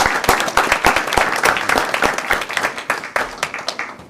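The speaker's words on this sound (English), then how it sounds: "just joining me in a round of applause" A small audience at a school board meeting claps in a dense, steady round of applause, sharp individual claps standing out close by throughout.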